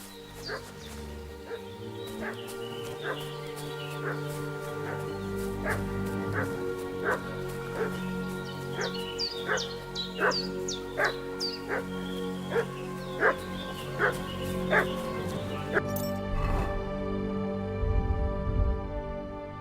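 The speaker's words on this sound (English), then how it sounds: "What's that dog making such a fuss about?" A dog in the video game Kingdom Come: Deliverance II barks repeatedly in short yapping bursts with whimpers mixed in, moderately near, over a steady musical score.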